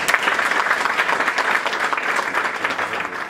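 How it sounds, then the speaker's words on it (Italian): An audience at a tribute to winemaker Emidio Pepe bursts into sustained, dense applause for Rosa, steady many-handed clapping that fills the room without any talk. "vi prego di salutare con un applauso"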